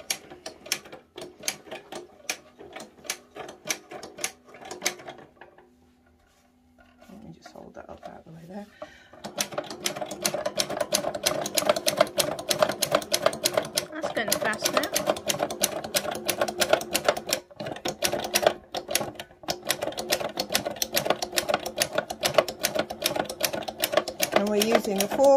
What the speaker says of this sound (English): this is hand crank and just goes plodding on